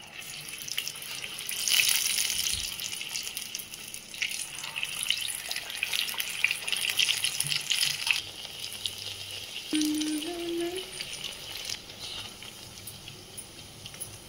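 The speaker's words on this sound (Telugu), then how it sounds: "ఈ విధంగా ఫ్రై చేసుకుందామండి" Taro root vadas sizzle as they deep-fry in hot oil, making a continuous bright, bubbling hiss. The sound is close and steady throughout, with small crackles rising and falling.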